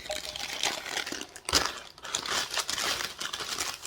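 Parchment paper crinkles and rustles up close as a pan of homemade small-batch brownies is lifted out, with irregular crackles and a sharper crunch midway.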